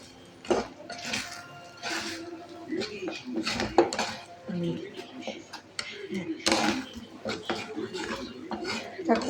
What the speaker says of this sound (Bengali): এবার এটা ভালো করে নেড়ে দিই।